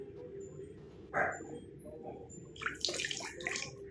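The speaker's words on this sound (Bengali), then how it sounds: "ঘর মোছার জলে কিন্তু আমি একটু স্যাপলন দিয়ে নেবো" Savlon antiseptic is poured into a bucket of floor-mopping water, making a short splash followed by a longer liquid trickle against a quiet household background.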